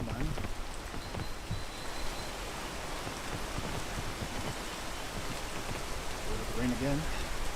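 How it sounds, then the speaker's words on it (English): Steady rain hisses across a mountain climb in the video game PEAK, a dense constant wash of drops with a voice talking over it and a brief tonal game sound near the end. "Rain again. Lovely."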